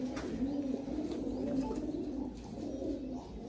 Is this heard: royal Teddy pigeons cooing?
yes